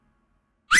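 A short shrill whistle starts abruptly after near silence, loud and close, lasting only a fraction of a second.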